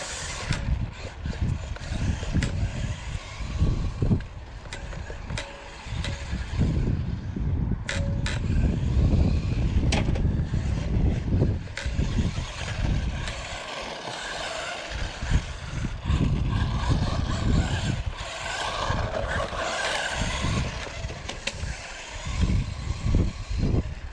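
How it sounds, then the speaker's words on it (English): A UDIPower 1603 RC rally car drives around on an even surface, its small electric motor whining continuously with rattling suspension and gritty tire noise, loud and near throughout with slight surges. "I'm going to drive it around this bit and just see how it goes."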